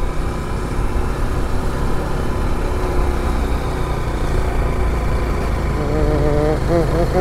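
A vehicle engine strains up a steep hill road in first and second gear, a constant loud mechanical drone with a rising whine near the end, under a voice talking.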